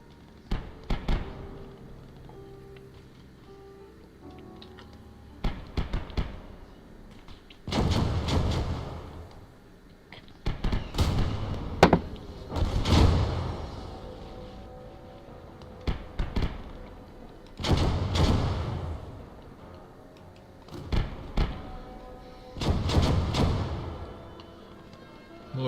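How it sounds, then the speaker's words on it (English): Long-range mortar and artillery fire in Call to Arms, with repeated heavy booming blasts, some doubled or clustered, that arrive in irregular bursts separated by quieter gaps, loud and rumbling throughout. "Let's give it a bit of a attack there from the long range mortars and artillery."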